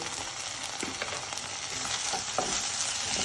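Ginger garlic paste fries with onions in a pan, giving a bright, continuous sizzle with a few soft stirring scrapes. It is close and steady and grows slightly louder toward the end.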